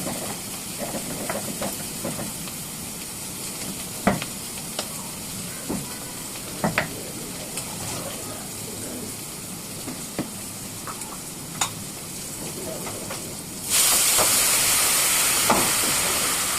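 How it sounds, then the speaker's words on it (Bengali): A paste of ground ginger, turmeric, chili powder and salt frying and sizzling in a pan, with steady hiss and scattered scrapes of stirring, growing louder and brighter near the end. "এবার মশলাটাকে কষিয়ে নেব, আদা বাটা, হলুদ গুঁড়ো, মরিচ গুঁড়ো আর নুন দিয়ে মশলাটাকে কষিয়ে নিচ্ছি"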